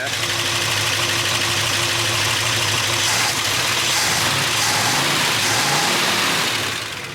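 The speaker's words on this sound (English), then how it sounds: "Exhaust sounds good." A farm truck engine with dual exhaust idles with a deep, throaty exhaust rumble, steady and close, with a slight rise in revs near the end.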